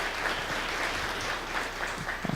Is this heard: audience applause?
yes